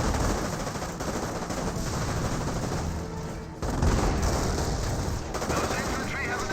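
An anti-aircraft flak vehicle in Company of Heroes fires in dense, rapid bursts amid wider battle noise, the loud rattling volleys running almost continuously with a brief lull midway.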